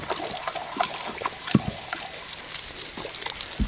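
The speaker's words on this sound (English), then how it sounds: "You like drinking from the hose, don't you," Water trickles steadily from a garden hose on a hot day while a dog drinks from it, a soft continuous splashing with a few small laps and drips close by.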